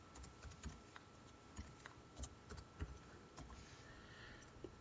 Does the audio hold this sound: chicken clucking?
no